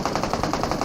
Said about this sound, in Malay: Nampaknya tembakan akan dilepaskan.